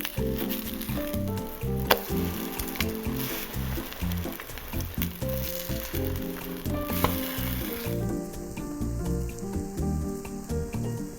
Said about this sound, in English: after about a minute and a half, let's flip our pieces of bread over